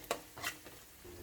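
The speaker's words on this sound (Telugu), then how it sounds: "మొత్తం హై ఫ్లేమ్ మీదేనండి ఫ్రైడ్ రైస్ మొత్తం చేసుకునేది" Vegetable fried rice is tossed in a pan over a high flame. A brief, soft scrape and clatter of a spatula against metal sits over a faint background sizzle.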